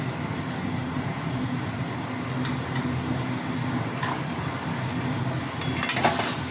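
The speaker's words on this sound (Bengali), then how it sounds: "এবারে এটা আস্তে আস্তে আমি নাড়াবো।" Spice paste with turmeric frying in a pan in a home kitchen while it is stirred slowly, a steady close sizzle with soft scraping of the spoon against the pan and faint clinks near the end.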